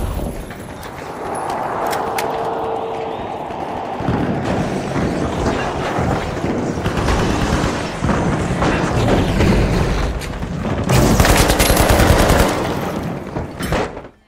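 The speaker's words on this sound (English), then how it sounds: "gunfire or an explosion goes off" Sustained loud gunfire rattles continuously in the game The Finals, punctuated by heavy booming blasts, building to a dense, intense barrage near the end.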